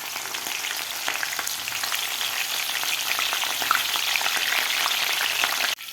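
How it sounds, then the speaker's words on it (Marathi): Finely chopped green chillies fry in hot oil in a kadhai, a dense, even crackling sizzle with occasional pops, close and loud, with no talking. "दहा ते बारा हिरव्या मिरच्या घेतलेल्या आहेत असे बारीक तुकडे करून ते सुद्धा तळून घ्यायचे आहेत"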